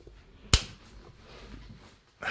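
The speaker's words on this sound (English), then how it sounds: "That was a weak slap." A single weak hand clap made to sync recording, one sharp, close snap-like hit in an otherwise quiet room.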